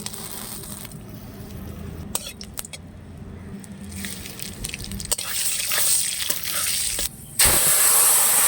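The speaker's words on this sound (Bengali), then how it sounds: "কড়াই গরম হয়ে গেছে, ফোড়নের জন্য তেল দিয়ে দেবো। ফোড়নে দেবো তেজপাতা," Bay leaf, dried chilli and nigella seeds hit hot oil in a heated kadai, giving a soft steady sizzle with scattered clicks and pops that swells louder toward the end; no one speaks.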